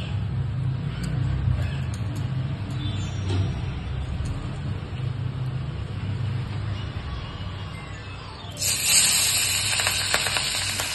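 Pabda fish frying in hot oil under a lid, a steady muffled sizzle throughout that brightens into a louder crackling spatter near the end.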